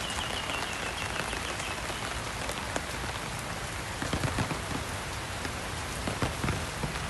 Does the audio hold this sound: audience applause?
no